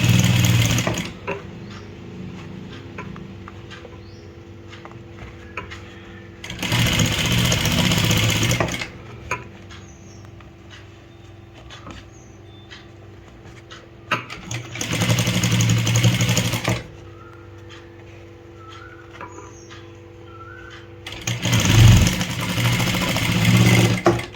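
A sewing machine stitching a folded-over sleeve hem runs in three loud whirring bursts of a couple of seconds each, separated by quieter pauses with faint handling sounds.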